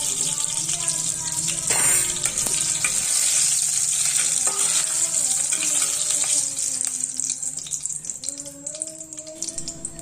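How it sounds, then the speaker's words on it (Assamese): Whole cumin seeds and two bay leaves sizzle in hot oil in a pan, giving a loud, steady bright hiss with scraping stirs and occasional faint clinks throughout. "এইখিনি অকণমান সময় মই তেলতে লৰাই দিম"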